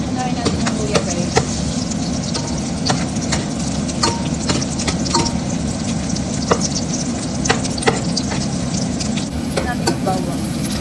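Ginger frying in a pan as the first step of Ilocano pinakbet, a steady close sizzle with stirring scrapes and small pops running throughout.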